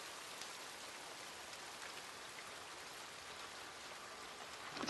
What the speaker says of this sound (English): a note on the experience of hearing rain falling.